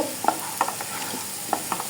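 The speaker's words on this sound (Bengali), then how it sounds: "হলুদটা দিয়ে কিছুক্ষণ নাড়াচাড়া করব।" An onion-garlic-ginger paste with turmeric frying in a pan and being stirred, giving a close, continuous sizzle broken by a few sharp scraping strokes of the spoon.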